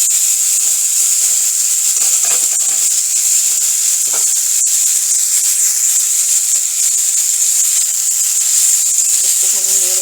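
Gima greens go into hot oil that already holds fried cumin seeds, giving a loud, steady, close sizzle and hiss that runs throughout, with faint stirring clicks.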